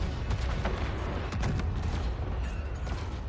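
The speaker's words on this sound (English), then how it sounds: "Big bomb." A big bomb explodes in the Star Wars Jedi Survivor video game, a dense, loud rumbling blast with crackling debris and booming low end sustained over a few seconds, no talking.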